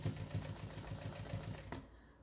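Sewing machine stitching big, slow basting stitches to hold down the edge of a stained glass window quilt, a steady rhythmic whir with regular pulses, close and fairly quiet, stopping shortly before the end.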